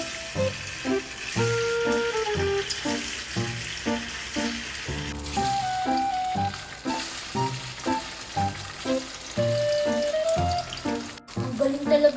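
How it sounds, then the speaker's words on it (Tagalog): Beef loaf frying in hot cooking oil, a steady close sizzle with stirring and clinks, set against rhythmic background music throughout. "Ayan, uminit na yung mantika. Ilalagay na natin to para maluto na siya."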